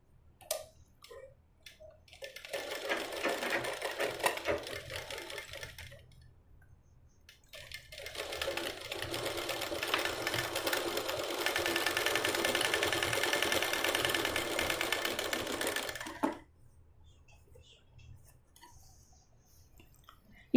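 A sewing machine stitching blouse lining to main fabric, with a short burst of stitching, a pause, then a longer continuous run of rapid mechanical whirring, close and fairly quiet, with small handling clicks between.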